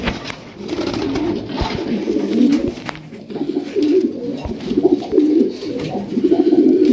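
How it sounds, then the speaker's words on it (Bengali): Dobaj pigeons in a loft cooing steadily, several birds' low throaty coos overlapping close by, with a few soft knocks and rustles. "এই এক পেয়ারই আছে দোবাজ কবুতর"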